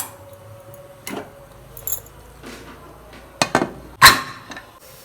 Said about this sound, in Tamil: இப்போ குக்கரை மூடி வச்சு